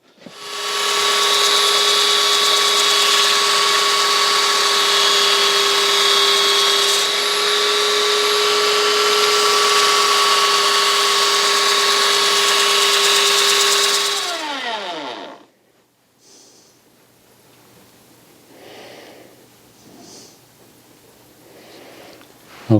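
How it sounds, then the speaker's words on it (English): An electric belt sander clamped in a woodworking vise runs with a loud steady whine for about fifteen seconds, then spins down, followed by faint quiet handling noises. "belt sander in woodwork vise"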